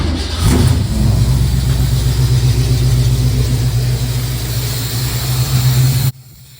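A 1969 Pontiac Firebird with a Holley Sniper fuel injection setup idles out of gear with a failing back-left injector, giving a loud, steady, rough close-up engine drone that cuts off abruptly near the end.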